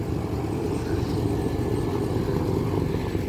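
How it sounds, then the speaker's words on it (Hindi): A helicopter drones steadily overhead in a mountain setting near the Oman border, a continuous low rumble heard at a distance with no talking. "हेलीकॉप्टर।"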